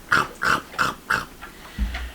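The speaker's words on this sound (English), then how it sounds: "Can you hear me over the dogs eating dinner?" Dogs eat dinner at an off-grid cabin during a cold snap, giving about four close, regular chewing or gulping bursts, followed by a brief low thump, with no talk.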